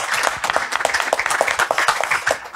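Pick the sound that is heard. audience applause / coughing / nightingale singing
audience applause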